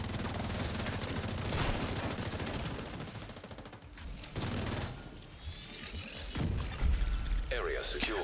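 Video game gunfire, rapid automatic bursts and single shots crackling loudly and almost without pause, with mechanical clatter, a short lull, and a voice talking over the action.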